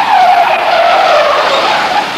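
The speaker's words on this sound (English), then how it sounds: "an out-of-control pickup truck nearly crashes into spectators" An out-of-control pickup truck skids with a loud, sustained tire squeal near spectators at a Saturday night race spot in Sylmar, steady and close for about two seconds with no talk.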